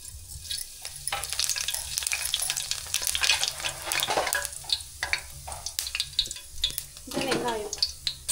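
Fennel seeds dropped into hot oil for crab gravy, a bright crackling sizzle that swells early and keeps popping under stirring scrapes, close and fairly loud, with a brief murmur of voices.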